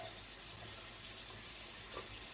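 Asian rice being rinsed under a running kitchen tap gives a steady, close splashing stream of water, fairly quiet and unbroken, with no talk.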